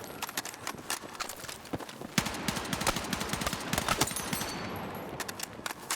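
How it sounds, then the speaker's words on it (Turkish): Automatic AK-205 rifle fire in the video game Battlefield 6, rapid sharp bursts of shots rattling in quick succession, close and loud, with short gaps between volleys. "Mermiler dağılıyor."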